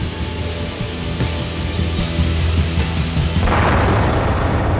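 Gunpowder burning in open air: a loud, sustained whooshing rush with a muffled boom, swelling toward the end like a burst of flame flaring up.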